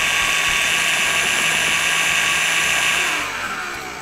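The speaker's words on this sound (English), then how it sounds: "We're gonna start whipping our egg whites here." An electric mixer whips egg whites for macarons with a loud, steady high-pitched whir that holds strong, then eases slightly toward the end, with no talking.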